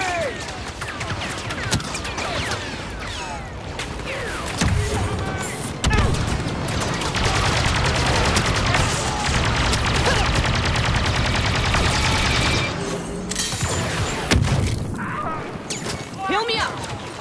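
Blaster gunfire in the video game Star Wars Battlefront 2 during the Battle of Jakku, a dense, loud, continuous barrage of rapid shots and crashes with battle noise throughout.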